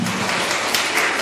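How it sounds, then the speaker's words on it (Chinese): A lecture audience claps in a short, dense burst of applause, heard only for a moment. "咱是不是用这个掌声感谢伊吼"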